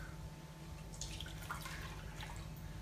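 A cup of milk poured into flour for crepe batter, a faint steady trickle with a few drips, close by and alone with no talk.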